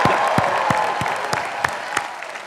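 The graduating class of 2026 cheers and applauds in a large coliseum, a broad wash of crowd noise punctuated by sharp, scattered claps and whoops at fairly close range.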